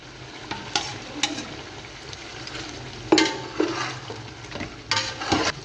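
Tomatoes go into ginger garlic paste frying in a pot for traditional chicken sobat, with a spoon stirring and scraping in several brisk bursts over a steady low sizzle, close and fairly quiet, no talk.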